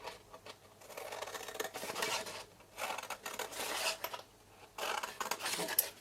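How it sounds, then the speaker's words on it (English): Scissors cut through card sides in several close, quiet bursts of crisp snipping and scraping, separated by short pauses, with no talking. "And then cut up all your other sides."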